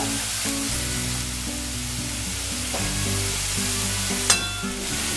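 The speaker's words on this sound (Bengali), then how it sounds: "টমেটোটা একটু ভালো করে কষতে কষতে এতে দেব 1 চামচ" Tomato and ginger paste frying in a hot pan, a loud steady sizzle with a low hum and occasional stirring scrapes, one sharp clink near the end.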